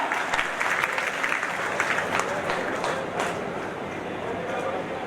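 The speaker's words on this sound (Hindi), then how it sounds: "जोरदार तालियों से उनका स्वागत कीजिएगा" Applause from a crowd fills the space, a steady wash of clapping that carries on without pause and fades slightly toward the end.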